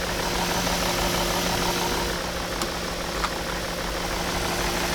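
A car engine idles steadily with a low, constant rumble and faint mechanical vibration throughout, no voices.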